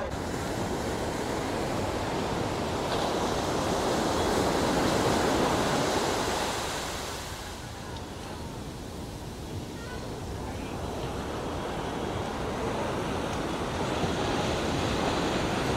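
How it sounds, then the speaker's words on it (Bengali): Sea waves at Puri beach make a broad, continuous roar of surf, loud at first, easing midway, then building again, with wind noise mixed in. "তো এখন আমি আর অভি এই যে বিচের ধারে ঘুরে বেড়াচ্ছি।"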